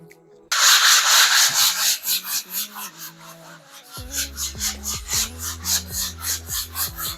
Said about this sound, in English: the sanding working easy